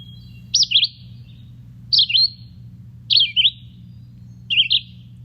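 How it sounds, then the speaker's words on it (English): A red-eyed vireo sings four short, clear whistled phrases at even intervals, spaced by pauses, over a faint low background hum. "So listening to red-eyed vireo, this would be very clear sounding."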